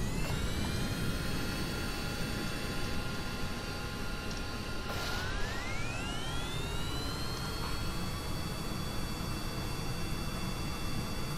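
Jet aircraft engines in the Kerbal Space Program video game run with a steady, loud whining roar and sustained tones, the pitch sweeping upward about halfway through before holding high, with no talking.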